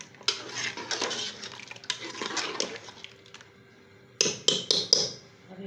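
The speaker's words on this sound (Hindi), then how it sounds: "अब हम फिर चम्मच से इसको मिक्स करेंगे चम्मच से।" A spoon mixing masala in a cooking pot for deghi aloo gosht, with bursts of scraping and rattling stirs, a short pause, then several sharp metallic clinks against the pot, close and without talk.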